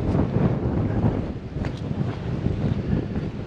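Strong wind gusts roar steadily across the microphone on a mountain trail, a loud, continuous low buffeting that fills the whole clip with no voices.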